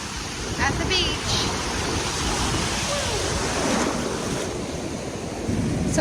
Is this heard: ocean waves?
yes